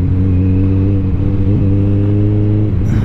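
A Kawasaki ZX-14R motorcycle engine hums steadily and loudly up close around 5,000 RPM, a constant droning note with slight wavering.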